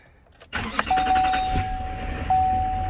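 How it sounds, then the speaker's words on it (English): A 2018 Chevrolet Silverado 2500HD pickup truck engine cranks and catches at close range, rising into a loud, steady idle with a faint chime tone running over it; no one speaks. "I'm going to put the truck back in park, start the truck"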